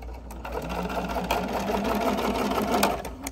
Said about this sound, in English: I'm gonna sew it to show you.